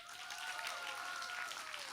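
Audience cheering and applause for a drummer at a community festival concert, a faint distant wash of clapping and whoops from a crowd, steady for two seconds with a few raised voices.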